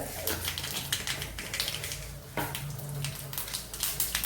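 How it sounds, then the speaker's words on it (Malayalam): Mustard seeds crackle and pop in hot oil in a pan while Kerala kadala curry is made, with scattered sharp snaps over a steady sizzle, close and fairly quiet, with no talk. "എണ്ണ ചൂടാകുമ്പോൾ നമുക്ക് കടുകിടാം."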